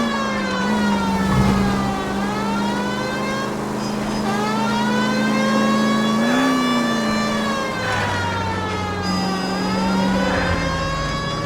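A police car in the video game L.A. Noire drives with its wailing siren sweeping up and down steadily over a loud, revving engine that rises and drops with gear changes.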